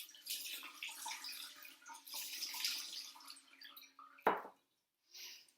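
Cold tap water runs and splashes over an egg being rinsed in a colander in a kitchen sink, a soft uneven trickle that stops abruptly after a brief louder clatter near the end.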